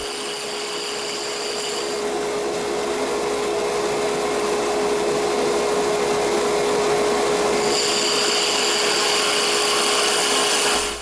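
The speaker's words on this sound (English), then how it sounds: "I'm going to speed the lathe up here a little bit." A wood lathe with a spindle duplicator hums steadily at high speed, around 2,000 RPM, producing a constant whine with a mechanical rumble underneath, close and loud, with no speech.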